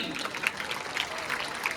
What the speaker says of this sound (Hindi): यहां बीच में से भी तालियां कम बजी।